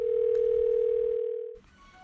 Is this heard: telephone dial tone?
yes